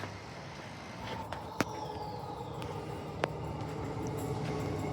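A shuttle train pulls in at Victoria Park station, running on the wrong-side track: a steady low rumble with a faint rising squeal and two sharp clanks, heard from the platform.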